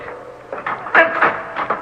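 A stuck wooden door on an old house being tried in a radio drama, several dull knocking rattles and thuds as the handle and frame are worked, close and fairly loud.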